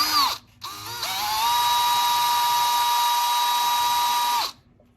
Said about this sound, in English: you can drill the hole just a little bit deeper